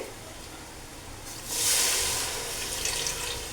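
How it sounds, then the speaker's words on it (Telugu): Water pours into a pot of jackfruit biryani with a rising splashing hiss that starts abruptly partway through, close and fairly loud, then settles into a steady stream. "కొద్దిగా వాటర్ అనేది యాడ్ చేసుకోవాలి"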